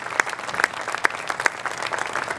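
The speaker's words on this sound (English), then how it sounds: "Please, let's have another round of applause for our mayor." A Veterans Day ceremony crowd claps for the mayor in a short, brisk burst of applause. The claps are fairly close and come at an uneven rhythm.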